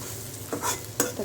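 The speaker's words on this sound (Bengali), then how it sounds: "এখানে বড় ছেলের জন্য ডিম ভাজছি" Egg frying in a pan gives a soft steady sizzle, punctuated by a few close scraping stirs of a utensil against the pan.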